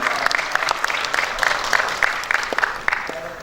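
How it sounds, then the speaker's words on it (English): Applause fills a hall at a film festival in Lahore, a steady wash of many hands with sharper individual claps popping out, fairly loud and close, with brief voices mixed in. "So a big round of applause for Daniel, Zarmina and all the hard work yo"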